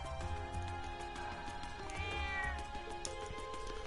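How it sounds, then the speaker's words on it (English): A cat meows in the video game Trails of Cold Steel, with a drawn-out mew rising and falling over layered game music and ambient sound, heard fairly clearly. "What a strange cat. Almost resembles a cow."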